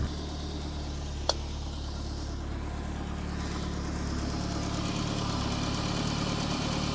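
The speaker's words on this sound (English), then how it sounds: "Your injectors tapping away as they should." A forged RS engine idles steadily with a low, even rumble and the light, rapid tapping of its injectors running continuously underneath, plus one sharp click early on.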